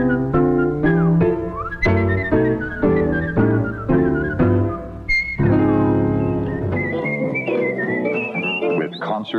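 A man whistles a tune, a clear, close melody with short bouncy phrases giving way to longer trilled notes, with no talk.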